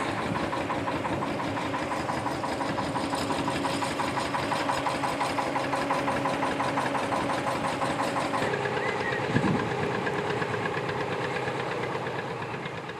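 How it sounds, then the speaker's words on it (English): A narrowboat's diesel engine idles steadily with a rhythmic knocking throb, close by and continuous, with a brief thump near the end. "Lovely sounding boat behind me."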